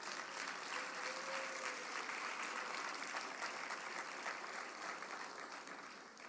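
Steady, fairly faint applause from a church congregation fills the room as a dense, continuous wash of clapping.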